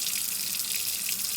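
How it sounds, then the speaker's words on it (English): Warm water pours steadily from a sink faucet, a close, continuous hissing splash with no breaks and no voices. "here at the sink, I'm gonna turn on some warm water"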